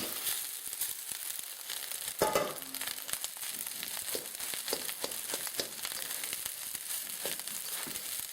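Char siu fried rice with eggs fries in a pan over turned-down heat, a soft sizzle broken by scattered scraping and tossing clatters, with no speech.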